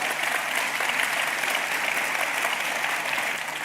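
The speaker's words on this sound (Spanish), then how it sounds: "un aplauso para los filósofos, las filósofas" A festival audience applauds philosophers after a public talk. Dense, steady clapping fills the room at an even level and tapers only slightly at the end, with no speech heard.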